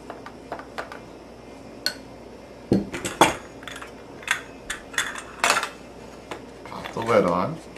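A spoon scrapes and clinks against a metal cookie press while lemon spritz cookie dough is packed into it: scattered light metallic taps and a few sharper clanks, irregular and fairly close.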